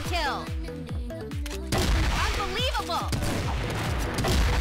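Rapid bursts of gunfire crack through a CrossFire match, including shots from an M200 sniper rifle, loud and repeated in quick succession amid other battle noise and a faint voice.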